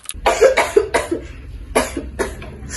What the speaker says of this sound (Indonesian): tiba-tiba ia mendengar suara batuk dari kamar ibunya